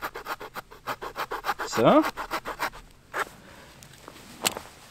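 A Roxon multi-tool's small, fairly wide saw blade cuts back and forth through wood in a quick rhythmic rasp, close and clear, with a brief spoken word and a short pause partway through.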